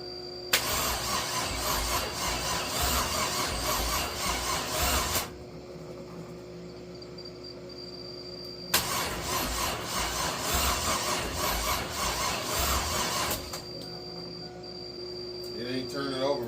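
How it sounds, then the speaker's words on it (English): A Chevrolet S10 mini truck's engine cranks slowly over a weak battery, with two long, loud bursts of laboured starter churning separated by a quiet pause, heard close up. "It ain't turning over fast enough for me, but it's turning"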